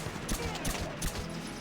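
Video game gunfire from Valkyria Chronicles: a rapid run of sharp shots fires in close succession at moderate loudness, rattling steadily for the whole short moment.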